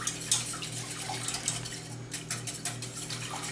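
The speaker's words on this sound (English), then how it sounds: "just whisk this to break up your eggs and mix everything together" Eggs with vanilla bean seeds are whisked in a bowl, a quick run of light metallic clicks and taps from the whisk against the bowl, moderately close, with no voices.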